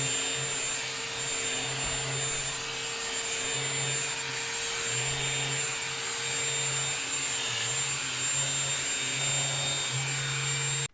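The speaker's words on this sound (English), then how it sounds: "Let's try out the self-cleaning pet brush. I'm going to vacuum the stairs." A Shark Ultracyclone handheld vacuum with a self-cleaning pet brush cleans carpeted stairs, its motor a steady high whine running alone throughout, with faint pulsing as the brush moves over each step.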